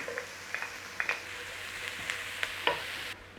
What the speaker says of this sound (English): Nice little saute on there.